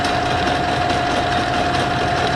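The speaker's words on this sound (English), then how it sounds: "So I'm turning this at 715 RPM," A metal lathe turns steadily at 715 RPM while taking a 70-thousandths cut at a 5.2-thousandths feed. It gives a loud, continuous mechanical whir with a fixed whine throughout, alone with no talk.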